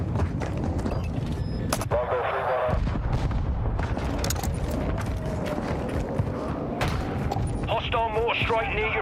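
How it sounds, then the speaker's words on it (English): Distant mortar strike explosions rumble and crack through dense Call of Duty Warzone battle royale game audio, mixed with gunfire, mechanical noise and a radio voice announcing the strike. "Hostile mortar strike near your position."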